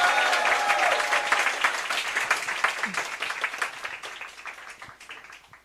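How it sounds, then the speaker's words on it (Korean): Audience applause at a youth committee launch event for a political party, a lively burst of many hands clapping that gradually thins and fades over several seconds. "네, 큰 박수 부탁드리겠습니다."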